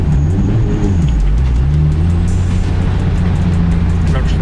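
Nissan Skyline car accelerating on a Norwegian road in northern Norway in November, a loud, close engine roar rising in pitch as heard from inside the cabin.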